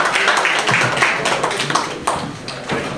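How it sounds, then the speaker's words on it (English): Applause at a community event marking Quaid-e-Azam's birthday, Christmas and a police promotion, a steady patter of many hands clapping in a room that fades slightly toward the end. "Big round of applause for Aziz Butt"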